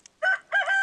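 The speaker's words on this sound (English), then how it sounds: "Cock-a-doodle-doo." A rooster in the Stardew Valley video game crows one loud, clear cock-a-doodle-doo in two bursts, close and alone.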